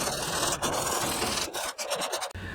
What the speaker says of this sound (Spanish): Le voy a pasar un poco de lija para que se agarre mejor nuestro producto.